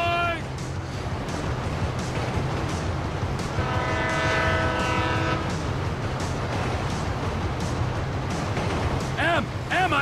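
Freight train rumbling past in GTA V during a train heist, a loud continuous rail roar with a long horn blast in the middle and shorter horn-like tones near the end, under talk.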